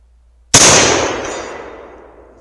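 A single sharp crack from a No.4 Mk1 Lee Enfield .303 rifle fired at a steel plate 220 yards off, its report ringing out loud and then decaying slowly over two seconds with no clear plate hit audible.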